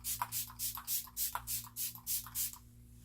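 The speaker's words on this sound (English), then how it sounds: "So I'm going to spray my face with some Fix Plus." Fix Plus setting spray is misted onto a face in about ten quick, evenly spaced spritzes, each a close, soft hissing puff, with no talking.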